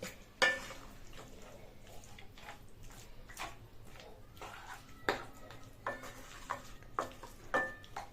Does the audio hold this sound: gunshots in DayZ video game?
no